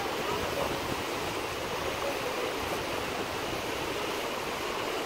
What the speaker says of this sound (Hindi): अरे इस पानी का भाव तेज है, उस पानी का तेज है